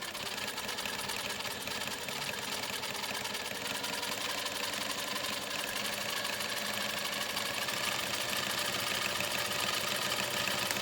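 Sewing machine stitching rope into a round basket, a steady, continuous mechanical whir with fine rapid ticking that runs unbroken and fairly close for the whole stretch, with no talk over it.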